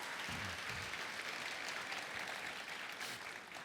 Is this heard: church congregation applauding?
yes